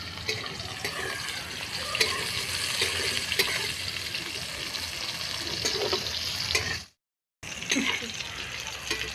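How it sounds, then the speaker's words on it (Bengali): Cauliflower fries in hot oil in a pan with a steady close sizzle and occasional scraping stirs, broken by a brief silent gap near the end before the frying resumes. "ফুলকপিটা ভাজা হয়ে গেছে এবার তুলে নিলাম"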